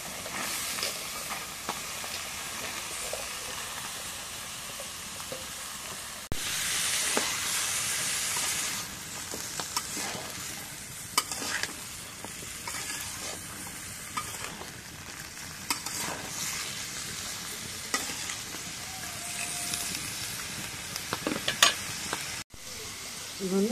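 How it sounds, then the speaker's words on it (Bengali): Onion flowers and flat beans frying in hot oil in a rural home kitchen, a steady loud sizzle with bursts of stirring and scraping throughout, no talking. "এখন পেঁয়াজের ফুল সিম তেলের মধ্যে দিলাম"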